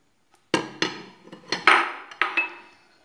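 A spoon knocks against a bowl while peanuts and cornstarch are mixed into cookie dough, giving about six sharp, close clacks spaced unevenly over a quiet background.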